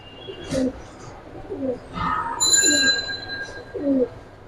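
Pigeons coo in low, repeated bursts at a bustling pigeon market in Islambagh, Old Dhaka, with scattered higher calls and background market noise between the coos.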